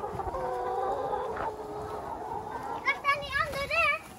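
Hens cluck and chatter nearby in a short burst toward the end, after a stretch of muffled background noise and faint voices on a farm.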